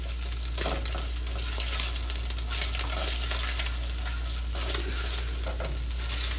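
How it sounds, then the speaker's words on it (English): Garlic fries on low heat in a pan, a steady, moderate sizzle with repeated stirring scrapes over a constant low hum, and no one speaks. "And the reason why I keep stirring it around is because I don't want to sit in one spot where it starts to crisp"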